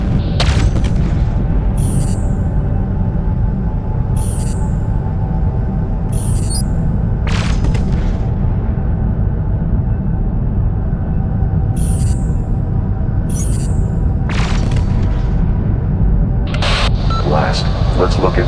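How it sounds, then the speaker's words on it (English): Laser weapons in a space empire strategy game fire in short bright zaps, roughly every second or two and sometimes in quick pairs, over a constant loud low rumble of ship engines. "Now let's try laser weapons."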